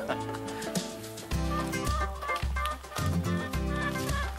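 Chickens on a poultry farm clucking and squawking as they scatter and run from a person, several birds close by, over a steady rhythmic background of music or thumping.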